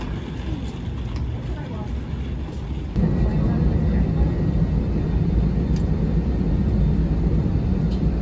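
Cabin noise fills an airliner as it waits for departure, a steady loud engine and air-system rumble that grows stronger partway through, with faint clicks and a thin high tone above it.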